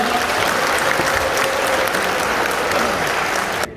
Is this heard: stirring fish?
no